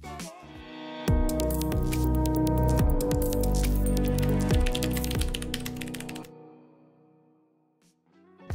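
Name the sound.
typing on Corsair K65 RGB Mini 60% mechanical keyboard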